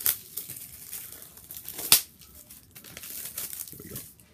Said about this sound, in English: True unwrapping.